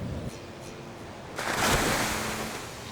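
Ocean waves on a beach in Fiji, a soft hiss of surf that swells into a louder wash about halfway through, heard from nearby with some wind noise on the microphone.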